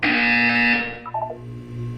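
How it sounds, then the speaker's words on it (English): A harsh electronic buzzer from the video game Portal 2 sounds loudly for most of a second and cuts off, followed by a brief softer tone and a low lingering hum. "When you hear the buzzer, look down at the floor."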